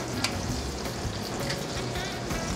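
A pat of butter melts into hot sauce in a pan with the flame just turned off, giving a steady close sizzle and crackle with faint stirring scrapes throughout, and nobody speaking.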